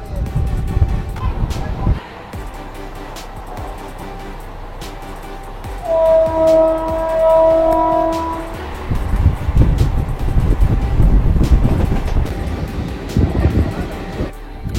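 A local train between Katwa and Ahmadpur pulls away from the platform, a steady low rumble of wheels and carriages with a brief horn-like tone near the middle, growing heavier toward the end as a voice talks over it.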